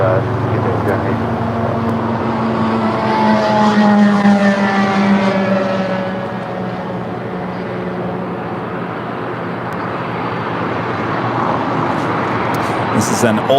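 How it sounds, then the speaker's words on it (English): An old passenger Boeing 747 at LAX roars loud and steady, its engine drone swelling and then easing slightly as it passes, with a voice talking over it. "This is an old passenger 747."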